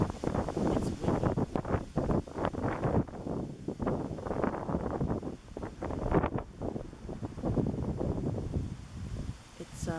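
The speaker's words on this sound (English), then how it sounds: "It's very windy out." Strong wind buffets the microphone outdoors, a steady loud rumbling roar with gusts that swell and ease throughout, with no other clear sound.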